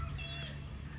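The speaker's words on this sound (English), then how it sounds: "Sorry for the noise. I think they just went on recess." Children play at recess in a schoolyard next to a park, a faint, distant wash of shouting and chatter under a steady background hum.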